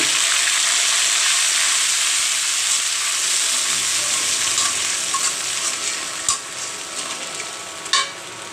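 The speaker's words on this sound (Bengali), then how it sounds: "এখন আমি দিয়ে দিচ্ছি পেঁয়াজ এবং রসুন একসাথে বেটে" Ground onion and garlic paste hits hot oil with already-fried onions in a pan for a fish curry, making a steady, loud sizzle and hiss broken by a couple of sharp utensil clanks near the end.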